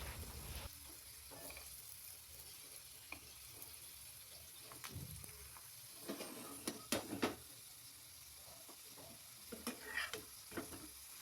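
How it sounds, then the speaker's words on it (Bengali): Snack pieces sizzle steadily as they fry in a pan on a gas stove, a continuous soft crackle broken by occasional sharper pops and stirring scrapes, heard up close with no talking. "এইভাবে আমি প্রত্যেকটা বেশ সুন্দর করে ফ্রাই করে নেব, যাতে ভিতর দিয়ে বেশি পুড়ে না যায়।"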